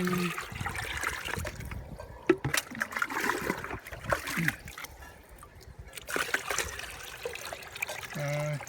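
Water mixed with fertilizer is poured by hand into a pot of garden balsam, giving irregular trickles and splashes that come in bursts with short pauses, fairly close and moderately loud.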